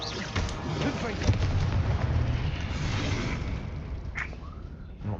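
A Confringo blasting spell explodes in Hogwarts Legacy, a loud rumbling boom with crackling debris that sustains for several seconds, plus a brief sharp pop near the end while voices talk in the background.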